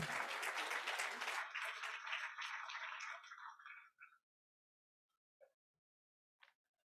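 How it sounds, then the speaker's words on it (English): Audience at a student industrial design awards event applauding loudly, the clapping fading out over a few seconds into silence, followed by a couple of faint isolated sounds. "Can we please give Abby Ryan a round of applause?"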